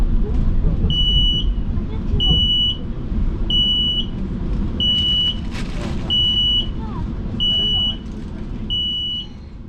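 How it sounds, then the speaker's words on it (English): A train's emergency alarm sounds as the train arrives at Burlington, giving seven evenly spaced high beeps over a loud, steady rumble of the rolling train. "someone activated the emergency alarm."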